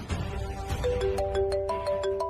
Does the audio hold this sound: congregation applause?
no